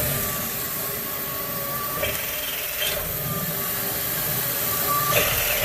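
Continuous whir and grinding hum from a PM-25MV milling machine spot drilling into metal, with faint scraping and a few light clicks.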